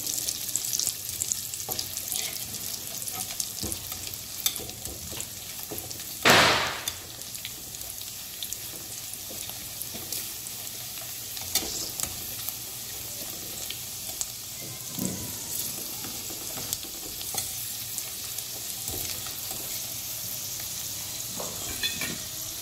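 Karanji pastries frying in hot oil give a steady, continuous sizzle and crackle throughout, with a brief louder burst of spattering near the start and occasional soft clinks.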